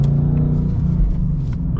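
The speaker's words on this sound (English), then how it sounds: "the Dark Horse is an amazing car. It sounds really good." Ford Mustang Dark Horse V8 engine under way on a drive, a steady close low rumble with a slight shift in pitch partway through, heard alone without talk.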